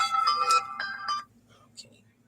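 A phone rings with an incoming call, a bright melodic ringtone playing loudly for about a second before cutting off, followed by faint quiet room sound and a brief soft chirp.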